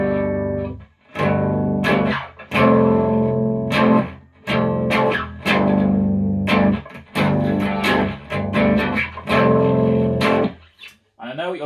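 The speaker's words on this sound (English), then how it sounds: "So chords with bass sounds like this." Chords strummed on a bass guitar run through an effects rig with distortion, ringing in a steady series of sustained, loud strikes with brief gaps between them.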